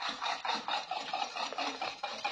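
Rhythmic scraping and swishing of a whisk or spoon beating sugar and three eggs together in a mixing bowl, a steady close stroke repeating a few times per second with no talking.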